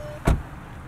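The trunk of a 2020 Volkswagen Jetta GLI unlocks with one short, sharp thunk of the lock mechanism, close and clear against a quiet background.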